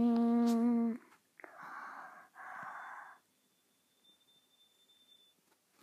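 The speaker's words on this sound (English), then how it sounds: "That leveling noise. Did you hear that leveling noise?" Otis hydraulic elevator at a Quality Inn leveling at a floor: a loud, steady droning hum for about a second, then two short hissing bursts and a faint, thin high whine trailing off.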